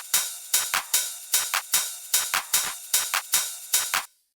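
Busy trance drum section, with sharp, loud hits landing in a fast, driving groove and tight gaps between them. It plays alone without voices and stops abruptly near the end.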